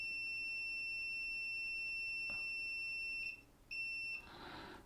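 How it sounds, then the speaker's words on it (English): An Owon XDM1241 digital multimeter's continuity beeper holds a steady, piercing electronic tone for several seconds, breaks off briefly, beeps again, then stops amid rustling and clicking nearby. "It beeps really loud"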